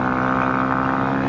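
A Honda CRF 250 Rally motorcycle with an aftermarket exhaust pipe drones loudly and steadily, its engine held at high revs in a close, buzzing, unbroken tone.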